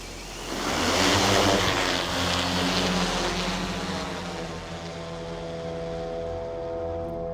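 A Vampire bomber drone spooling up to take off, its rotors building into a steady, droning buzz that swells within the first second and holds at a moderate, fairly near level.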